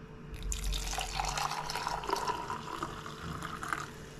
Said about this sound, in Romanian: Acum punem ușor apa.